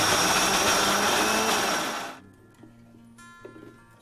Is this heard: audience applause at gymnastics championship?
no